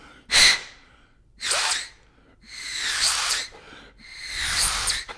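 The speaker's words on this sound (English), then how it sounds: "so you're getting that whistling sound on the mouthpiece if it's possible" Forceful bursts of air blown through a brass mouthpiece with a whistling hiss: four separate breaths, the first short and sharp, the later ones longer, heard close and alone.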